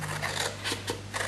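Scissors snip notches into paper for a gift box a few times in short, crisp bursts over a faint steady hum, quiet and close.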